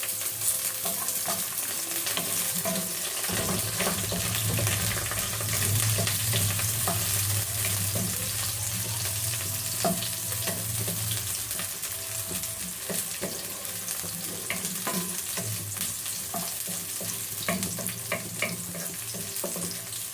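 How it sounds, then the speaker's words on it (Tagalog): Onions sautéing in a pan for chop suey, a steady broadband sizzle with frequent clatter of a spatula stirring, continuous and close throughout. "gisa lang natin mabuti guys"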